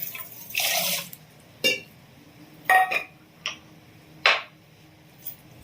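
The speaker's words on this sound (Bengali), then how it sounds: "আর তার সাথে দিয়ে দিচ্ছি আমি 1 বাটি জল আর একটু জল" Water poured into a clay pot (tijel handi) holding sugar for jalebi syrup, heard as a short splash followed by a few sparse drips and clinks in a quiet room.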